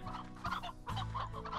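Chickens cluck in quick, close bursts in the video game Slime Rancher, a continuous run of fowl chatter with a brief pause midway.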